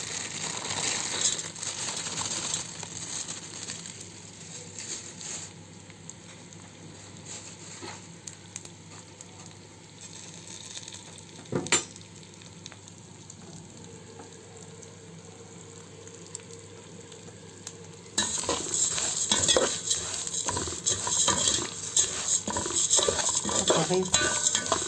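Vermicelli fries in oil in a pot for Egyptian koshari, with a constant low sizzle under scraping and clinking spoon strokes, growing louder and busier in the last few seconds.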